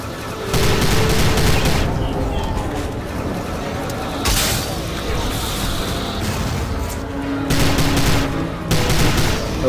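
Rapid gunfire from shooting in the 2006 video game Prey, loud and dense in repeated bursts with brief lulls, mixed with game effects and occasional talk.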